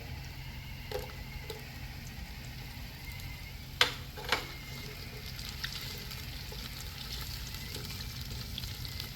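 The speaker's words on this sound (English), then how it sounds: "But I can see the oil already bubbling there." Oil bubbling in a pot for snapper stew, a steady soft sizzle and crackle throughout, with a few sharp clinks in the middle, heard alone.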